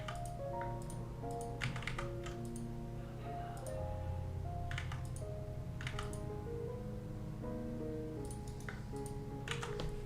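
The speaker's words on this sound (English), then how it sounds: "doing keyboard ASMR" Typing on a computer keyboard, close and steady, with quick clicking keystrokes in irregular runs over a soft background hum, no talk.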